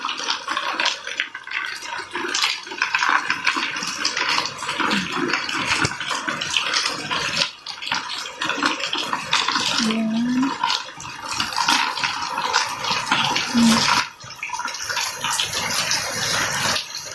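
Rainwater pours steadily into a plastic basin, a continuous loud splashing gush that holds for the whole stretch with only brief dips.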